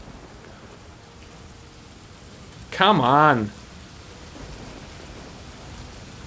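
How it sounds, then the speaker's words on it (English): Steady broadband hiss of heavy rain pouring in a video game, Morroblivion, throughout, with a brief spoken phrase cutting through midway. "Man, the rain's loud as crap. It's really pouring."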